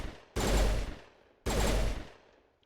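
Two loud pistol shots in the video game Mass Effect, fought against Geth on Feros, each a sharp blast with a long booming tail, about a second apart, with no talk.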